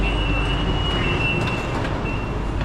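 Steady broadband rumble of a Delhi Metro airport line train riding, with a faint high whine running throughout, heard from inside a modern air-conditioned carriage.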